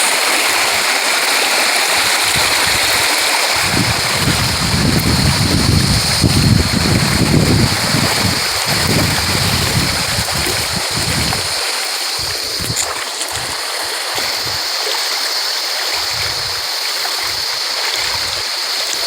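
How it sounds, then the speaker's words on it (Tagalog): A strong river current rushes loudly and steadily, a broad continuous roar of water with gusts of wind buffeting the microphone. "Lakas ng agos."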